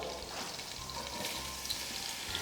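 Chopped onion hits melted butter in a pan for risotto, giving a steady, soft sizzle and crackle that holds at a low, even level throughout.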